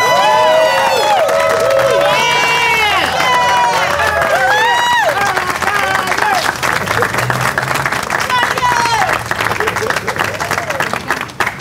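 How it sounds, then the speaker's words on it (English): A crowd at a mayor's political slate announcement bursts into loud, sustained cheering and applause, with whoops and shouted voices layered over steady clapping from start to finish. "I just want one loud cheer for our slate, because we're moving forward to victory."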